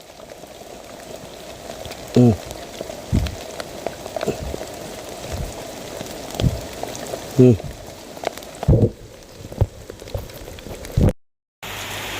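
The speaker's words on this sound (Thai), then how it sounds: "ฝนตกห่ำแล้วพี่น้อง ฝนตกห่ำเขาแล้ว" Rain patters steadily on a surface, with a few louder knocks and brief murmured voices.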